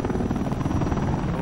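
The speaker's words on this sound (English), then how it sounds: "Oh, the helicopter." Helicopter in Half-Life 2 Episode Two gameplay, a loud close rotor drone with fast steady chopping pulses running throughout, no talk.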